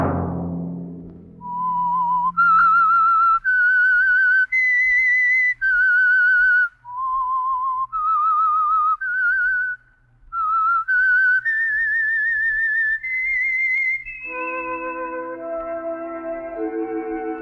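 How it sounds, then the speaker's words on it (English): A lone whistler performs a haunting, stepwise melodic theme of sustained clear notes rising and falling, ending as an orchestral chord swells in beneath it. "Let that whistle be your signal for the Signal Oil program, The Whistler."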